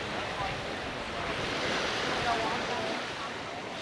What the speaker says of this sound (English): But this is what the beach is looking like.